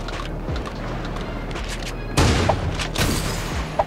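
Two loud, closely spaced shotgun blasts, a pump-style double shot, go off over a constant game background in the shooter Creative Destruction.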